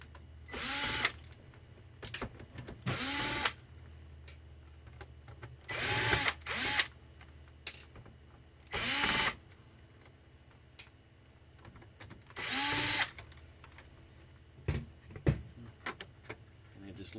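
A power screwdriver backs out the screws holding a plastic panel on a Dell Inspiron One 19 all-in-one computer, in about five short whirring bursts separated by quiet gaps and small clicks of handling.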